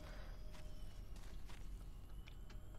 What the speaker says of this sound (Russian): я какие-то слышал шаги